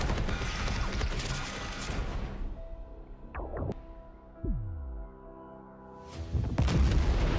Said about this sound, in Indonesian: Andrew memerintahkan melepaskan bom air untuk membantu Kong